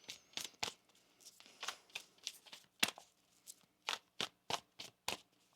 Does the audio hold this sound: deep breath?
no